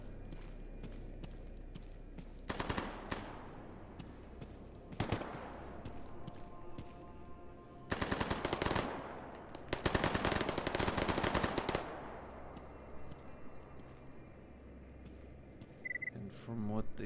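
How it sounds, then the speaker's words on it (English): Distant firefight in the video game S.T.A.L.K.E.R. GAMMA, with scattered single shots and several bursts of sustained automatic fire echoing from afar over a low ambient background. "There's also another firefight going on down there."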